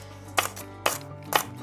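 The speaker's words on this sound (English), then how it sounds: "And lots of chopping here." Lemongrass being roughly chopped with a knife on a board in a cooking-show kitchen: three separate sharp chops spaced about half a second apart, close and fairly clear over a low steady hum.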